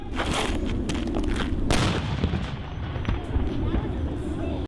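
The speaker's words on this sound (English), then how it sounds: "the SWAT team fucking threw grenades into this house" Grenades exploding during a police SWAT raid on a house, sharp loud blasts and cracks repeating over a constant rumbling roar, with voices mixed underneath.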